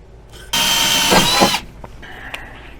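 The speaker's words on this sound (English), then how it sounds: "Drill it out to 3/16." A power drill whirs loudly for about a second, revving as it bites through metal while drilling out a rivet hole on a pontoon boat, then cuts off to quiet workshop noise.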